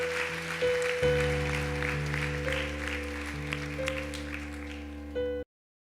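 Applause offered to the Lord during a church service rings out under sustained organ or keyboard chords and music, fairly soft, ending suddenly in silence.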